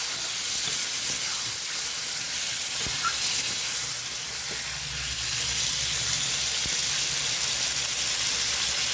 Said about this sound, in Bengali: মশলার যে জলটা ছিল ওটা দিয়ে দিলাম।